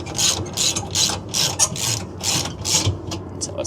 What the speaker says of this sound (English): And here I'm just gonna throw the 15/16 socket on.